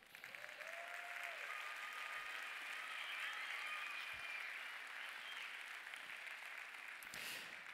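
A large festival audience applauds throughout the Cinemed 2025 closing ceremony, with dense, sustained clapping at a fairly distant level and a few scattered cheers, and a voice calls out briefly.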